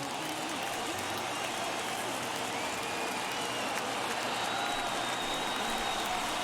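Stadium crowd in MLB The Show 21 baseball game, a large crowd of over 39,000 cheering and applauding as a steady, loud roar throughout.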